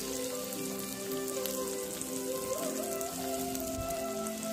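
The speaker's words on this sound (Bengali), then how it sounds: "তারপর ভালো করে ভেজে নিচ্ছি।" Ginger paste fries in a pan for butter paneer masala, giving a steady, soft sizzle and crackle like light rain, with faint background tones beneath.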